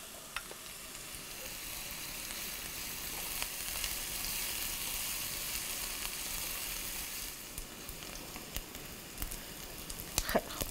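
Butter melting into a pan of Persian green bean stew, frying with a steady bright sizzle and crackle, then occasional clicks and scrapes of stirring near the end, close and alone.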